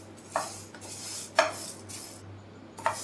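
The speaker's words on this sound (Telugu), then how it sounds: "ఇప్పుడు ఈ మినప్పప్పు బ్రౌన్ కలర్ వచ్చేంత వరకు బాగా ఫ్రై చేసుకోండి." Urad dal is stirred as it fries in a pan over a medium flame, with three distinct scrapes and clinks of a utensil against the pan over a low hum, no talking.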